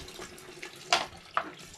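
Water sloshes and splashes briefly in a sink as underwear is hand-washed with laundry liquid, with a couple of sharper wet swishes as it is stirred around.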